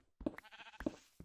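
Sheep in Minecraft bleat in two short, wavering calls, close and clear, with a brief pause between them and a third starting at the end.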